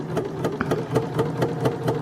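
A sewing machine stitching down a continuous lap on a garment runs steadily, its needle thumping in a regular, quick rhythm of about four beats per second, close and clear with no talking.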